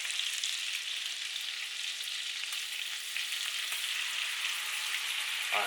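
Shrimp frying in a small pan, a continuous bright hiss and crackle of hot oil that stays steady and fairly loud throughout, close up with no voices.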